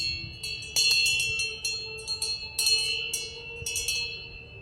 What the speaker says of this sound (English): you hear the tingling of bells